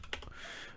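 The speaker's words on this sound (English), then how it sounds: "I was typing in Momoko Amazing Spider-Man 1 CGC signed" Quick fingers tap a few keys on a computer keyboard in a short cluster of clicks, then the sound settles into faint room hiss; no talking.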